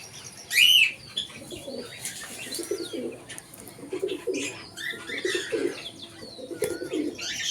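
Pigeons coo in a rhythmic series of soft, low calls, repeated at regular intervals, with a brief sharper chirp near the start and quiet background rustling.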